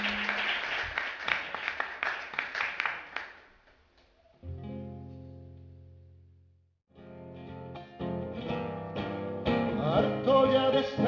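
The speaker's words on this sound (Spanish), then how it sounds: "Pueden aplaudir, ¿eh?" Audience at a book presentation for Josep Pla's "Viaje a pie" claps in a dense burst for several seconds, then a sustained tonal music passage starts up and builds into a fuller band sound.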